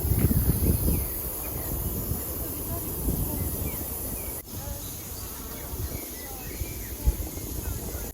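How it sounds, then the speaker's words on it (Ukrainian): Faint chirps and short bird calls scattered over a steady outdoor hum in a Kyiv botanical garden in May, with rustling and a light breeze in the background. "Пташки співають, чуєте?"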